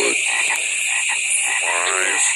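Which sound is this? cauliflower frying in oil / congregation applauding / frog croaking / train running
frog croaking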